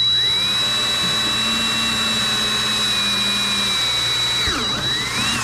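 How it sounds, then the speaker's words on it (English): A power drill bores a hole through a plastic fender on a General XP 1000, a steady loud whine with a high constant tone that holds for several seconds, then briefly dips and recovers near the end. "drill your hole."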